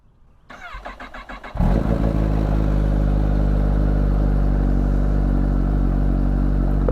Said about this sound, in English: Start the motorcycle and let it idle.